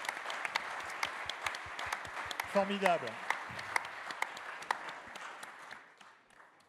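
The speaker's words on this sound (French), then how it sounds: "énormes applaudissements pour nos étudiants" An audience at a management conference applauds the students with moderate, scattered clapping that thins toward the end, while a voice briefly speaks over it.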